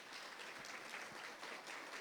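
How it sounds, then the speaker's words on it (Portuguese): A church congregation at a Baptist evening service claps for the Lord, a faint, distant wash of steady applause that holds evenly throughout. "Aplauda ao Senhor, por gentileza."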